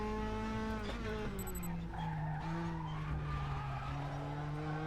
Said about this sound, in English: If you turn the tyre skid sounds up, I find that helps quite a lot. For the fronts especially.